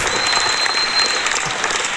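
Loud, dense applause from an audience in the room at a live debate event, a continuous wash of many hands clapping close by for the full two seconds.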